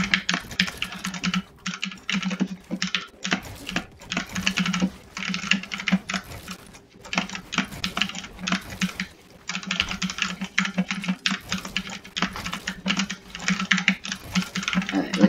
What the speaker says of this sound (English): we're doing some keyboard ASMR